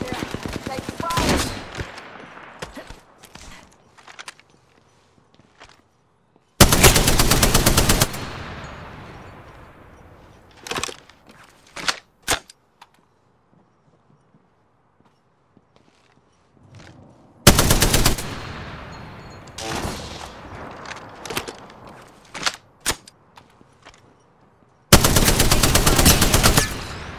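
Bursts of automatic gunfire in Apex Legends during a squad firefight, several loud sustained volleys with scattered single shots and impacts between them, no voices.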